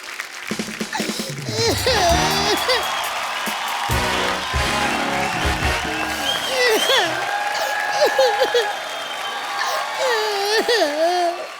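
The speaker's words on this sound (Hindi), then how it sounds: "एक बार इमरान भाई के लिए और गुरु के लिए जोरदार तालियां बाजी प्लीज।" Studio audience at a televised Indian comedy talk show breaks into loud, sustained applause and cheering, with music and voices layered over the clapping throughout.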